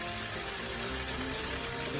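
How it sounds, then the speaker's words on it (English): Rice being washed in water makes a steady, close sloshing and rushing of water that continues without a break. "what you're gonna do, you wash the rice"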